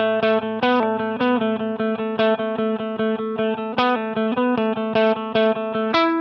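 An electric guitar plays a rhythmic part of a worship song at modest volume, with repeated plucked notes over a sustained low tone, slightly distorted and effects-coloured, steady and alone.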